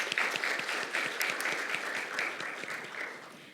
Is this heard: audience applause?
yes